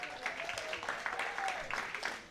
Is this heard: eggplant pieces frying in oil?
no